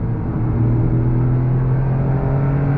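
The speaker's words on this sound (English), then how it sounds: "Nice downshifts, man." 2023 Toyota GR Corolla engine humming steadily from inside the cabin, a loud sustained drone whose pitch climbs slightly as it revs, with no talking.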